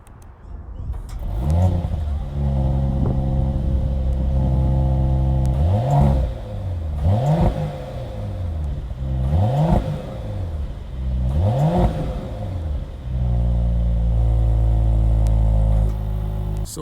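A 3-liter turbocharged inline-six in a new 2021 Mercedes-AMG GLE 53 4MATIC+ Coupé revs up close in a series of about five sharp throttle blips between idle stretches, each rising and dropping quickly, before settling into a steady idle.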